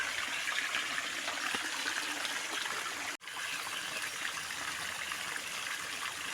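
A forest stream flows steadily as a continuous watery rush, moderately loud and close, broken only by a very brief dropout midway.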